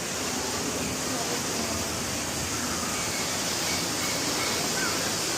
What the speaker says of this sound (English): Just waterfalls now.